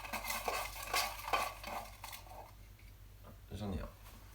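Folded paper slips for a prize draw being mixed by hand, a run of close rustling, scraping bursts in an uneven rhythm, with a voice speaking briefly near the end.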